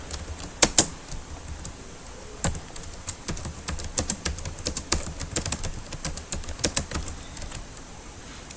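Keystrokes clatter on a computer keyboard while someone writes a C++ program, coming as quick irregular bursts of sharp clicks close by, with short pauses between runs and no talking.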